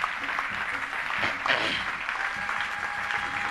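Applause from a church congregation, a sustained wash of clapping hands filling the room, fairly loud and steady for a few seconds with no talk over it.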